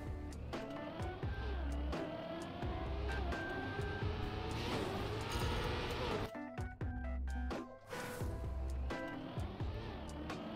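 A car racing and drifting in the video game Trackmania, with a steady tonal engine whine that rises and shifts in pitch, tyre-screech sweeps, and brief dropouts, alongside game music-like tones.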